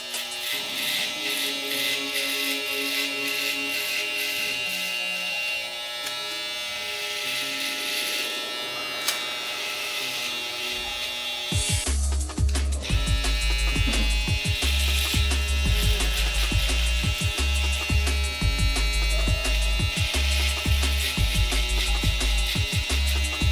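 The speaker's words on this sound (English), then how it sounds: "I like to use different techniques to just show how the trimmer operates, cutting in different ways" A Babyliss black FX One hair trimmer buzzes continuously while cutting hair, close and fairly loud, with a steady whine. The tone shifts partway through into a heavier, choppier buzz as the cutting changes.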